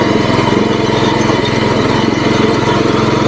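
A mini power weeder's small engine working in first gear while tilling farm soil: a loud, close, steady drone with a fast, even chug that holds the whole time.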